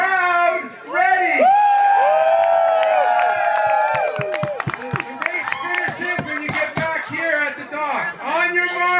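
Crowd at a Riverfest paddling event on the Madawaska River cheering, whooping and clapping loudly, with excited voices and a lively mix of shouts throughout.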